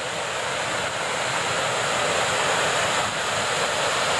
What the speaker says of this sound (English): I don't know if you can hear me over the falls and the wind.